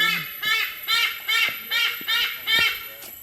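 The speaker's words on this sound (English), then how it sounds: "that's called a white-bellied sea eagle" A white-bellied sea eagle calls loudly and repeatedly, six harsh, ringing honking cries in a steady rhythm, close by.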